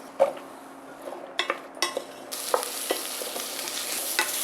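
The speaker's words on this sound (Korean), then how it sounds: "양파하고 양송이 버섯을 볶아줍니다." Onion and button mushrooms sautéed in a spoonful of olive oil, soft frying crackle under repeated clacks and scrapes of a utensil against the pan, the sizzle swelling louder in the second half, no talk.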